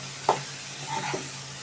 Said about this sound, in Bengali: ভালোভাবে নেড়ে দিব।